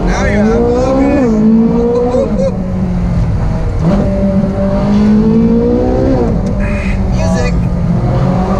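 A Ferrari Speciale engine revs and pulls through rising gears while driving, its loud tone climbing then dropping at each shift, close and continuous, with people talking over it.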